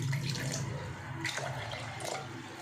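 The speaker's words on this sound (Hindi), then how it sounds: "इसके बाद 1 गिलास आप डाल देंगे पानी।" Water pours steadily into a glass while making peach juice at home, a continuous splashing fill that swells and fades slightly, close and moderately quiet, with no talking.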